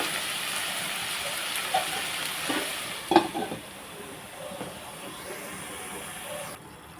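Ivy gourd curry frying over high heat in a pan, a steady soft sizzle with a few sharp scrapes and clinks as it is stirred, fairly quiet and close.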